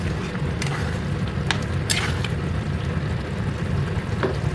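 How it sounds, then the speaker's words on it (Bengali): Potato and pointed gourd curry with rice is stirred in a pan, giving a steady low sizzle with soft scraping and squishing strokes and a few brief clinks, close by with no talking. "একটু নাড়িয়ে নেব"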